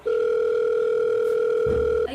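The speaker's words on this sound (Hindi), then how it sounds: "आई केकर फोन आवता?" A telephone sounds a steady, unbroken electronic tone for an incoming call in a home, loud and close for about two seconds, with a faint low thump near the end.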